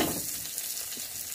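Steady sizzling and frying of chayote with spinach and egg in a pan, in an outdoor dirty kitchen on Siargao Island, close and continuous with no talk.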